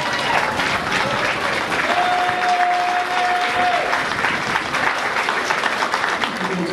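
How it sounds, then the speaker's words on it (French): A crowd applauds at the inauguration ceremony for the Olympic swimming pool of the Cayenne aquatic centre in French Guiana, continuous clapping with a brief tonal whistle-like note sounding partway through. "Sous vos applaudissements, merci à vous tous."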